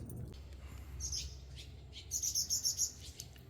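Baby birds in a nest built on a house give quick, high chirps, first a short burst and then a louder run of rapid tweets, over a low outdoor background.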